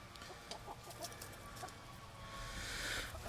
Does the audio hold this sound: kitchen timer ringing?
no